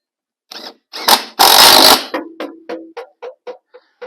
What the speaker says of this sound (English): I'm going to try screwing the back in.